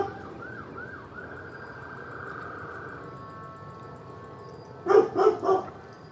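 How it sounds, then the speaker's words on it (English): A European-style two-tone emergency siren wails faintly in the distance, rising and falling several times over a quiet outdoor evening background, followed near the end by a few close, loud dog barks. "That siren sounds very European."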